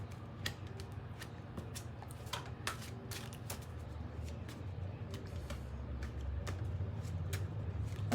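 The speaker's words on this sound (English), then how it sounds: "One more shuffle." Tarot cards riffle and snap in a series of quick, crisp shuffling bursts over a low steady hum, fairly close and moderately loud, with no talking.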